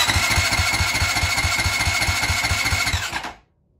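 Honda 450L motorcycle engine cranking over steadily with rhythmic pulses for about three seconds, loud and close, then cutting off abruptly into silence.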